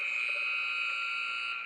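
A period-end buzzer sounds at an ice hockey playoff game, one loud, steady electronic tone held without a break over faint arena noise.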